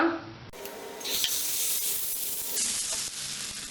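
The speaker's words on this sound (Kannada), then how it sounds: "ನಮ್ಮ ತವಾ ಬಿಸಿಯಾಗಿದೆ ಇವಾಗ ದೋಸೆ ಹಾಕ್ಕೊಳ್ಳೋಣ" Egg dosa batter spread on a hot tawa, producing a close, steady hiss and sizzle with scraping spreading sounds that rise after a short quiet start.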